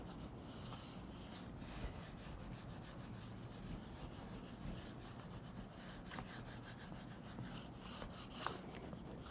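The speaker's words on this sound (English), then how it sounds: "You can do this at home with a wooden spoon and just, sort of the basic materials and hand rub that way." Wooden spoon rubbing by hand across paper on an inked woodcut print, a continuous soft scraping with regular back-and-forth strokes, faint and close.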